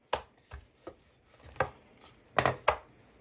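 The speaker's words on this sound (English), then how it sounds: "we're gonna roll this out" Dough for Guyanese bake being rolled out with a rolling pin on a floured surface: a handful of soft, close thumps and brief scrapes at an uneven rhythm, with no talking.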